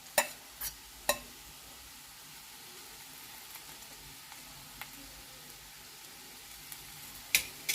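A spoon stirs carrot curry after green chili and garlic paste goes in, with a few sharp scrapes and taps against the pot over a soft, steady sizzle.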